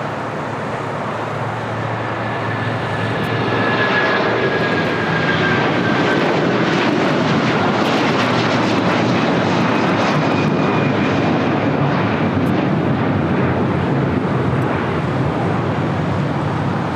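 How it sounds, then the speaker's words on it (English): A jet airliner roars loudly as it takes off at LAX, a broad sustained rumble that swells after the first few seconds and holds steady throughout, with no voices over it. "Flight 6811 taking off to Guadalajara."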